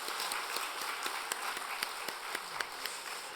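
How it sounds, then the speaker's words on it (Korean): A church congregation claps at a Sunday service in a quick, even rhythm, faint and somewhat distant, with steady taps over a soft hall ambience. "박수 한 번 더 힘차게"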